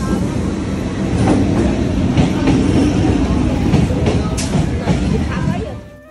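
A train rumbles loudly and steadily at a railway station on a morning departure, with a continuous rolling clatter that swells slightly and then eases off at the end.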